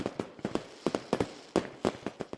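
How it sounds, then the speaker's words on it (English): Fireworks crackle and pop in a quick irregular string of sharp bursts, about a dozen cracks over a couple of seconds, moderately loud and heard alone without talk. "Here's a special fireworks for you too."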